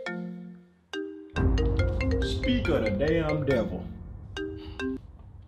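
A phone ringtone plays as a short tonal melody that repeats, with a clinking sound partway through. Someone talks over the ringing.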